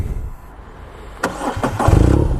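A BMW R nineT Scrambler with a flat boxer engine cranks over and fires up midway, then settles into a loud, throbbing idle with a slight rev.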